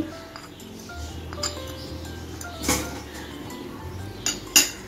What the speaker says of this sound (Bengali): একটা চামচের সাহায্যে এখন আমি সব কিছু ভালো করে মিক্স করে নিচ্ছি।